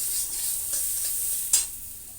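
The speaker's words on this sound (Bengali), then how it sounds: "ডালটারে একটু ধুয়ে নিয়েছি, ধুয়ে ভেজে নিচ্ছি" Washed lentils fry in a hot pan with a continuous close sizzle while a spatula scrapes and stirs them in several soft strokes, one sharper scrape standing out.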